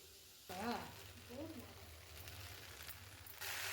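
Okra sautéed with yogurt and a little grated coconut in a pan, a low soft sizzle with light stirring, briefly overlaid by a voice and swelling louder at the end.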